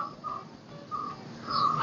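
Short harsh bird calls repeat a few times against a quiet background by a river, sounding like crows cawing at a moderate distance.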